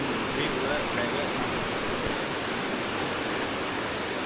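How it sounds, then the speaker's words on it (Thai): A stream flows beside riverside lodging in Laos, a steady broadband rush of running water filling the whole clip at an even, close level with no pauses. "นี่เลยมีลำธาร"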